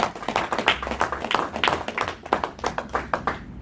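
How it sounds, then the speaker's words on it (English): A small audience at a speech club meeting claps for a speaker, with distinct individual hand claps in an uneven, sparse rhythm, close and crisp rather than a dense roar. "Please give him a round of applause"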